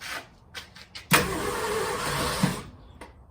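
A 1966 Ford F100 engine cranks, a brief rough burst of starter grinding for about a second and a half, preceded by faint clicks and rustling.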